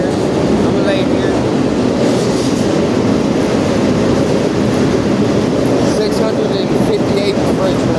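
A freight train heard from inside a boxcar, a loud, continuous rumble and rattle with faint clatter and squeal, steady throughout with a voice partly audible beneath it.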